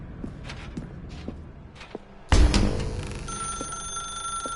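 A telephone in a video game rings out loud and bright with a sustained tonal bell after a sudden burst, preceded by a series of soft footsteps in a quiet room.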